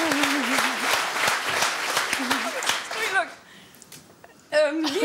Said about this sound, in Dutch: Dames en heren, applaus voor Pien van Bennekom.